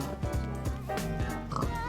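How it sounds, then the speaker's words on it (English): Pigs in the Minecraft video game grunt and oink in a quick run of short snorts over background music, fairly close and moderately loud. "You want pig? There's a lot of pig."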